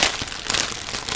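Plastic packaging crinkling as it is opened, a loud, close, dense crackle lasting about a second with no talk over it.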